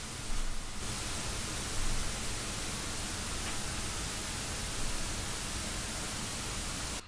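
Soundtoys Radiator background noise pushed up by heavy compression: a steady, dense hiss like pink static that runs unbroken throughout, fairly faint and alone.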